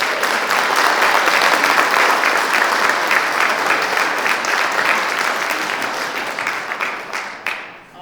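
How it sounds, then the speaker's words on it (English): Audience applause at a county candidate forum, a dense burst of clapping from a room full of people that holds steady, then thins and fades out near the end. "All right, round of applause."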